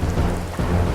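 Heavy rain pours steadily with a deep rumble of thunder underneath, a dense continuous roar filling the whole stretch, close and loud with no voices.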